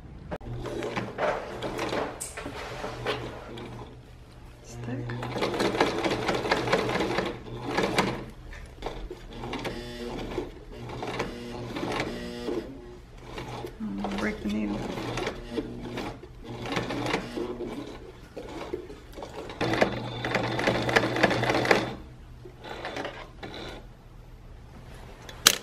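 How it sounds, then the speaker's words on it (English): A 1980s sewing machine runs in bursts of rapid mechanical stitching, pausing and restarting, with a steady low hum underneath and some clattering. "Pulling out the 1980s sewing machine."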